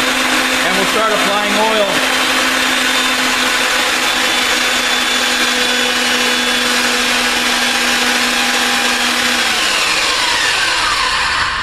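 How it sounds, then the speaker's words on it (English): A pipe threading machine cutting threads into rigid pipe, its steady motor drone and grinding dies running loud and continuous, with someone speaking over it briefly near the start. "You'll notice as the machine's threading, you'll see some of the filings being cut off by the dies"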